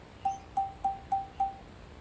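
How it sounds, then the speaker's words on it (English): Five evenly spaced notes at one pitch ring out from a wooden xylophone struck with a soft rubber mallet. Each strike is gentle and quickly fading, heard alone over faint background hiss. "If I use a soft rubber mallet,"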